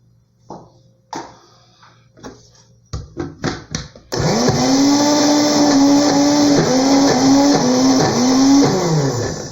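After a few short taps and bumps, a countertop blender kicks on at about four seconds, loud and close, its motor whining steadily under the load of pizza dough with slight pitch dips as the blades labor.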